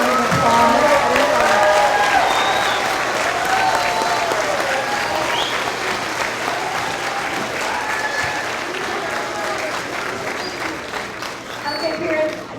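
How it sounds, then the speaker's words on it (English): Audience applause for graduates at an elementary school fifth grade celebration, a large crowd clapping steadily and loudly throughout, with faint cheering and voices mixed in, tapering slightly toward the end. "Let's give all of our graduates one more big round of applause."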